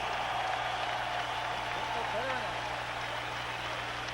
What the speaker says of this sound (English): how about a round of applause for these 2 heavyweights in the ring here tonight